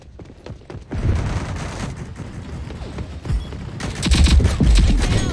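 Heavy gunfire in the shooter game Rogue Company, dense overlapping shots and bursts that build and grow louder toward the end, crashing and banging with no talking.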